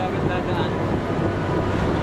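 Strong wind buffets the microphone in a steady roar, with a watery, open-air rumble beneath, between Copenhagen and Malmö; no clear voices stand out.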